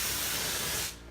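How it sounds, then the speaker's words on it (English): A paint spray gun hisses out petticoat pink paint in one steady, loud, close burst of about a second. It then cuts off abruptly, leaving faint room tone. "Make sure it's spraying okay."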